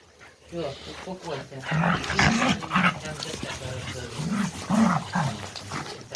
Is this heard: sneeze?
no